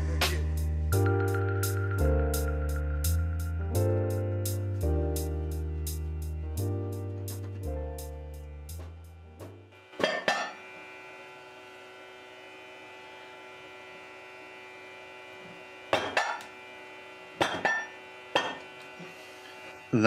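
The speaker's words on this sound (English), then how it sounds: "All those loud noises were the metal compressing as air couldn't get out." The metal interior of a thermos inside a handmade wooden coffee mug compresses as trapped air cannot escape. After a sustained tonal passage, several sharp, loud cracks and pops arrive at irregular intervals over a low, steady hum.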